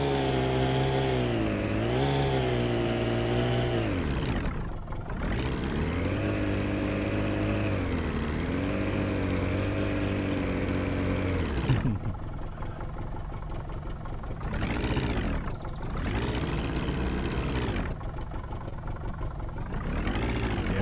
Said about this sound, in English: These boats tend to be pretty loud,